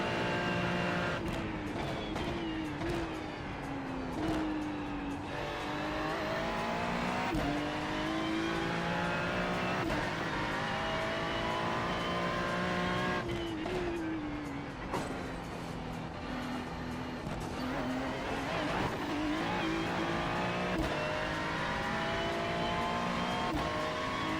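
A Porsche race car roars through a Nurburgring 24-hour race in a video game, its engine droning loud and continuous with rising and falling revs through gear changes.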